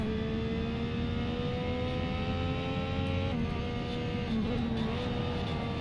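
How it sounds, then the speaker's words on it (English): Opposing race cars in the racing game Race Driver: Grid roar alongside in a steady, loud engine drone, pitch sliding up and down through gear changes with no talk over it. "The opposing cars are very loud in this."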